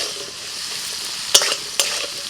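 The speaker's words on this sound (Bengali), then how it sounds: "কড়াইতে তেল দিয়ে দিয়ে দিলাম আলু।" Potato pieces frying in oil in a wok give a steady, close sizzle and crackle, broken by two sharp bursts partway through, as when the pieces are stirred.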